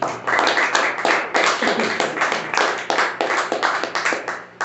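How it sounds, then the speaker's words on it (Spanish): A church congregation claps together in a lively, fairly regular rhythm of bright, close hand claps that continues steadily before tailing off at the end. "denle un aplauso al Señor"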